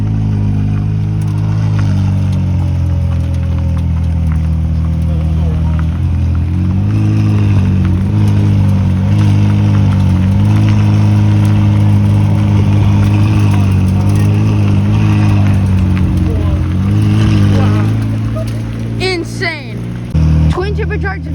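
A McLaren Senna GTR with a supercharged V8, street-legal conversion, idles with a deep steady rumble and short revs, close and loud amid crowd chatter at a New Jersey cars and coffee meet.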